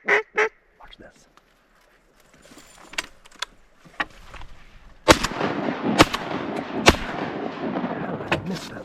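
Shotgun blasts from a duck blind during a mallard hunt, several sharp loud reports spaced a second or so apart, with a burst of wind and rustle in the blind after the first shot and someone talking softly beforehand.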